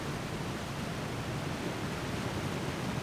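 Waterfall ambience in an outdoor game area right underneath the falls: a steady, dense roar of rushing water, broad and unbroken, close and even in level throughout, with no voices or other sounds on top.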